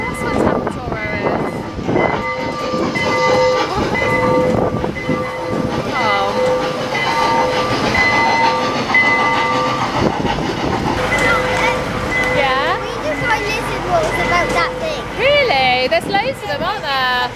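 A small resort train in Orlando rolls past with clattering wheels and squealing, whistle-like tones, while people talk over the noise.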